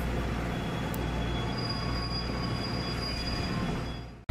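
A 50-series passenger coach night train departing Kumamoto Station rumbles steadily on the rails, a loud continuous low roll with faint wheel squeal above it, heard from inside the coach.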